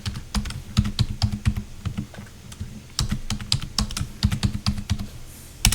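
Fingers tapping keys on a computer keyboard to enter a password, quick irregular bursts of close, crisp clicks with short pauses between groups.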